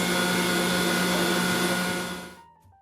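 An electric mixer beats eggs with sugar for galaktoboureko, a steady high-pitched motor whine running loud and unbroken before cutting off and fading out at the end.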